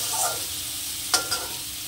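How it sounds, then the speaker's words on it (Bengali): Mashed green banana peel paste sizzles steadily as it fries in a pan, with a couple of brief scraping stirs partway through. It sounds close, and no one speaks. "খোসাটাকে আমি এইভাবে নেড়ে চেড়ে সুন্দর করে নর্মাল আজে ভেজে নেব"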